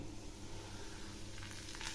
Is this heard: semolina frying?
yes